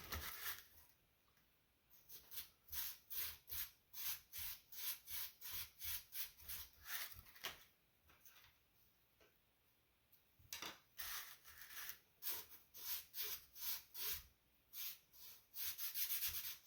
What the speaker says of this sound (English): use sandpaper, which is what I'm about to use